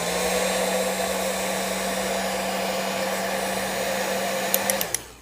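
A heat gun blows a steady, loud whooshing roar at close range while shrinking heat shrink tubing on a LiPo battery balance lead, then cuts off near the end with a few sharp clicks.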